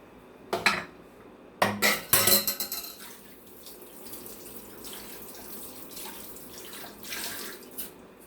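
Water poured into a vessel and swished to rinse it while preparing sweet corn adai batter, with sharp clinks of utensils and dishes at the start followed by a steady trickling, sloshing wash nearby.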